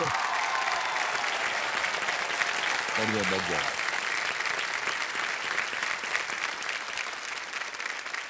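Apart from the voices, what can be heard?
studio audience applauding loudly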